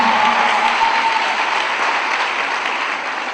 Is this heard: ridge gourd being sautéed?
no